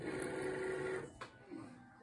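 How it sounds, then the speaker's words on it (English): Cricut Maker cutting a picture from vinyl, a buzzing motor whir with a steady tone that stops after a second, followed by a short clack and a softer moving whir. "As you can see, my Cricut maker is cutting my picture out of my vinyl."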